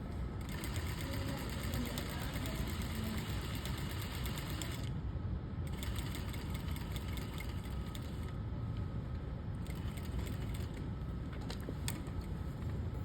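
A sewing machine runs steadily while stitching a seam along a fabric edge, a continuous close mechanical whir with brief pauses and speed changes and no talk over it.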